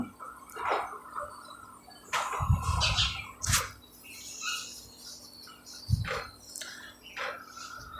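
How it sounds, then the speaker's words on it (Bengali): Small birds on a home balcony give sharp, scattered chirps and short calls, some close and loud, others fainter, over a quiet background with no talking. "কিচিরমিচির শব্দ হচ্ছে"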